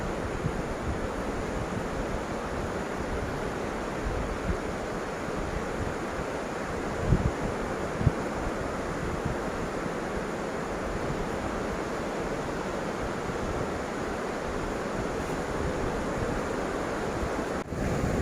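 Waves breaking and washing on a beach at Diveagar, with steady wind buffeting the microphone, a continuous loud roar of surf and gusts throughout, no voices.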